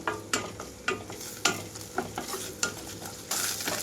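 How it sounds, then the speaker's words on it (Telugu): Onion, ginger-garlic paste and curry leaves fry in a pan with a soft steady sizzle, broken by regular scraping strokes of a spatula stirring close by, with no talking. "ఉల్లిపాయలతో పాటు అల్లం వెల్లుల్లి కూడా చక్కగా వేగిపోవాలి అడుగంటకుండా కూడా చూసుకోవాలండి"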